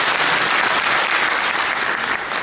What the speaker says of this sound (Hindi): चलिए एक जोरदार ताली पहले रमेश जी